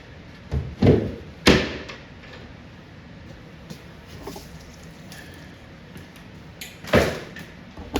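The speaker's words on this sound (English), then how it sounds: "Let's go ahead and put the back door back on it." The wooden back door of a Sinistar arcade cabinet is fitted back on, with a few sharp wooden knocks and thuds spread between quieter handling noises, close by.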